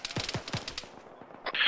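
A machine gun fires a quick burst of about five sharp, loud shots during a military field training exercise, followed by fainter distant reports and a hiss of noise.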